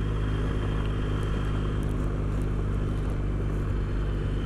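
A Triumph Bonneville motorcycle with a bald rear road tyre ridden on loose gravel, its engine giving a steady, dense drone with continuous road and wind noise, close and loud throughout.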